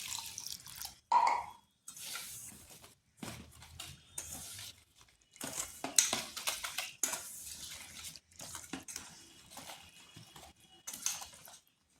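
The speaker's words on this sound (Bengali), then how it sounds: "এরপর দিচ্ছি দুধ। দুধটা হালকা গরম আছে।" Lightly warm milk is poured into semolina batter for steamed pitha in intermittent wet splashing bursts, with occasional utensil clinks between pauses.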